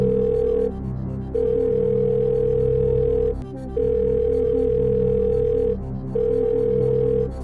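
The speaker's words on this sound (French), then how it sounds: "c'est parti, appelons Charles" A telephone ringing out on a game show call to a contestant's friend: loud, steady repeating electronic ring bursts separated by short pauses, with no talk over them.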